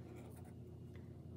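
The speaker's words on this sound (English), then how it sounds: "we're gonna write Jesus's name" Pen or marker writing a name on paper, a soft steady scratching that runs throughout at low level, close and alone with no talk.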